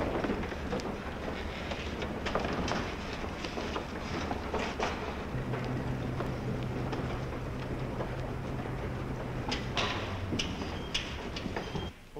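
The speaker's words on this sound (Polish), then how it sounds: "Uwaga, napędy. Jedziemy tylnymi wózkami ze sceny." Motorized wagons rolling off a theatre stage, a continuous loud rumbling roll with clattering knocks and a low mechanical drone, without voices.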